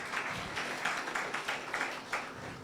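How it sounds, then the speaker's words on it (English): A small lecture audience at an economics talk gives a round of applause for the guest speakers, loose clapping with distinct individual hand-claps pulsing in an irregular rhythm, moderately near and fairly quiet. "I think we can give them another round of applause"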